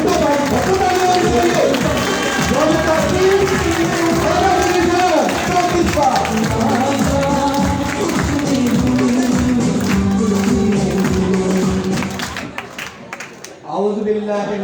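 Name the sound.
audience applause and clapping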